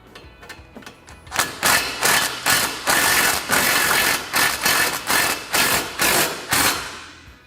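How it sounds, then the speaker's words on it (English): Ratchet or power tool tightening the lower rear bumper bolts on a Kawasaki Teryx KRX 1000, a few light clicks and then repeated loud, close bursts of rapid rattling separated by short pauses. "So then we're just gonna go down through here and fully tighten our lower hardware only."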